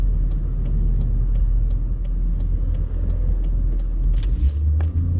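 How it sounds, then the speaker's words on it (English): Steady traffic noise at a city intersection in Las Vegas, cars rumbling and passing continuously at close range, with a louder vehicle engine swelling near the end, no talk over it. "there's a whole lot of cross traffic, and our light's about to turn green"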